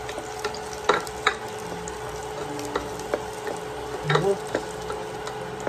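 Garlic and ginger sizzle steadily in a pan while a spoon stirs them, adding scattered scraping clicks and taps over the soft frying hiss, fairly quiet and with no voices.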